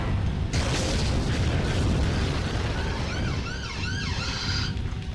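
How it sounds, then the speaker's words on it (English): An ambulance siren wails past in brief rising and falling yelps, heard over heavy rumbling noise and booms near the end. "that's the ambulance"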